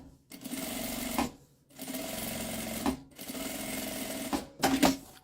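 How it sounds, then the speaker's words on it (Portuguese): A sewing machine stitches a seam through fabric for a small case, humming in three steady runs of about a second each, separated by brief pauses, with a louder burst at the end. "passei a costura"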